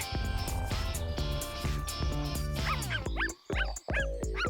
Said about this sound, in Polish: A to mój piesek.